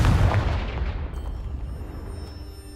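A Confringo explosive spell goes off in a Harry Potter video game: a deep, booming blast up close that rumbles and slowly fades over a couple of seconds, with no voices.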